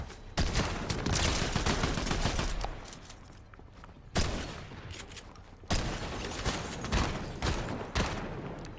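Dense bursts of gunfire from a Fortnite match on PS5, rapid overlapping shots in loud sustained volleys with brief lulls between them, no talking.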